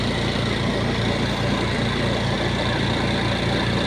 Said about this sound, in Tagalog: Nag-fabricate ng washing motor, ginawang dryer motor.